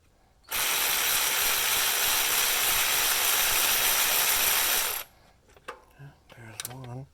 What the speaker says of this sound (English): Let's try and zap them off with the power ratchet.